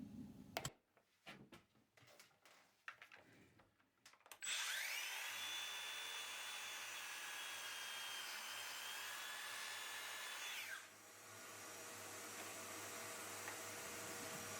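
A loud, steady mechanical whine of a power saw cutting through wood for several seconds, preceded by scattered knocks and clatter, then a lower hum afterward.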